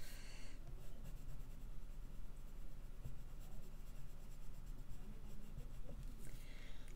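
Soft, continuous scratching of a pencil moving across a sketch card, close and quiet, with a faint background hum.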